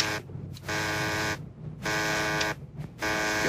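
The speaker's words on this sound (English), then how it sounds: "Buzzer's ringing." An electronic buzzer rings in repeated loud, harsh tones, several bursts of roughly half a second to a second separated by short gaps, close and alone.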